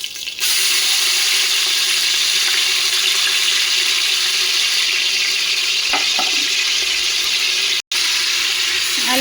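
Ginger and garlic frying in a pan with whole spices for mutton kulambu, a loud steady sizzle throughout with occasional stirring scrapes.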